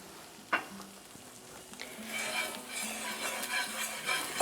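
A spoon scrapes and clinks against a pan as red chile is stirred into oil, with a soft sizzle building underneath and brief utensil knocks, fairly quiet and close.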